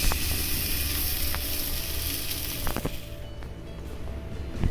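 A paratha is dropped into a preheated cooker and sizzles steadily and loudly, with a few sharp clicks and clatters of handling partway through.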